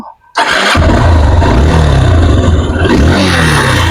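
A second-hand Honda CB Hornet 160cc motorcycle starts up close by, with a brief starter whir followed by a loud, steady idle that rumbles continuously.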